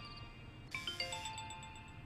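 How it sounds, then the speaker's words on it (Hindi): A mobile phone ringtone starts partway through, signalling an incoming call in a home drama scene. A few brief melodic beeping tones play faintly over a low background, with no talk. "उजाला का फोन आ रहा है"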